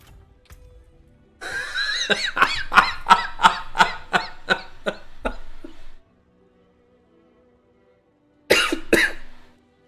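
A run of about ten sharp, rhythmic hiccup-like gulps in quick succession, then silence, followed by two more abrupt hiccups close to the microphone.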